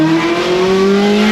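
A Nissan R34 GTR accelerates hard with a loud, close engine whine that rises steadily in pitch, while the car slides sideways.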